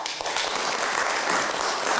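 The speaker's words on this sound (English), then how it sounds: "Let's give him a big round of applause." Audience applause welcoming Dr. Tulsi Ram to the stage at a spiritual talk, a brief steady burst of clapping from a crowd at moderate volume.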